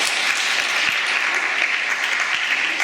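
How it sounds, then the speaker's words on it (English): Conference audience giving a round of applause for two young presenters, dense and even clapping that fills the room at close range from start to finish. "Round of applause for Moses and Bella."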